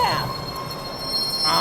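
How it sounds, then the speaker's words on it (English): A train pulling in, with a high metallic wheel squeal ringing steadily over low rumbling, loud and close, swelling again near the end. "People apparently love this part of the show when the train pulls in"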